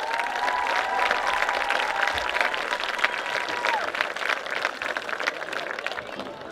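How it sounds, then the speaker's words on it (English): Crowd applause at a high school homecoming football game ceremony, sustained clapping and some cheering from a large gathering, filling the space evenly for several seconds. "Let's give all these young ladies another round of applause"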